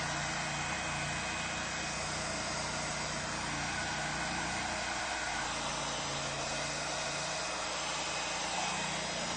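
Hair dryer blowing on a decoupaged plaster vase, a loud, steady, continuous whooshing roar close by with no break.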